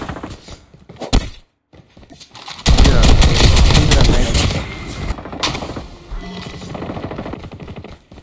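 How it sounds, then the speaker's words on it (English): Rapid automatic gunfire in a Call of Duty Mobile match on the Alcatraz map, loud and close, with a few scattered shots first and then a sustained burst lasting several seconds before it tapers off. "Why are they shooting?"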